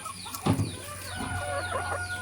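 A small flock of chickens in a shady yard gives a few close clucks and low murmuring calls over faint outdoor background noise.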